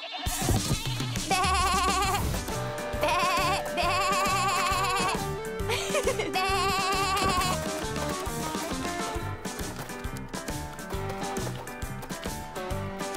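Cartoon goats bleat in an animated Barbie scene, set over loud, continuous bright music that fills the whole stretch and partly masks the animal calls.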